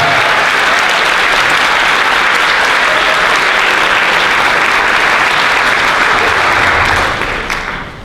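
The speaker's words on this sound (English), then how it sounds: "How about one more round of applause for Aaron Fowler?" Sustained audience applause at an Air Force band school concert, loud and dense for about seven seconds before starting to taper at the end.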